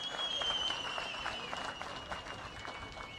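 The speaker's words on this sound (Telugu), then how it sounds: "ఎదుర్కోవాలంటే గట్టిగా చప్పట్లు కూడా చెప్పండి" An audience applauds during a Telugu political speech, a brisk wash of clapping from a crowd at moderate distance with a voice running over it.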